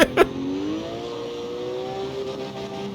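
Porsche 911 GT3 Touring engine in the racing game CarX Street, revving hard and accelerating in first gear as a steady, rising harmonic drone after a couple of short bursts at the start.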